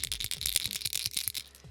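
Rapid rattling of a crawfish-pattern lipless crankbait being shaken, bright clicking bursts in quick succession, close up with no voices.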